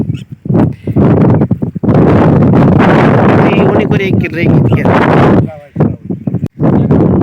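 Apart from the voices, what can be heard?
wind blowing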